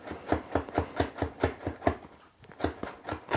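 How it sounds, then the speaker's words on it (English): A knife finely chops crushed garlic on a board in a steady, quick rhythm of close, crisp taps, about six or seven per second, with one brief pause partway through. "So I'm going to now finely chop these crushed bits of garlic"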